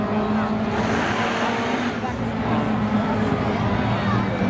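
A Camaro sliding through a drag race at Seekonk Speedway, a loud engine roar that holds steady throughout with faint tire noise, under busy crowd and announcer chatter.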